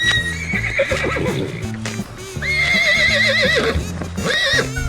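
A horse gives several loud whinnies and neighs with wavering pitch, close by, over steady background music.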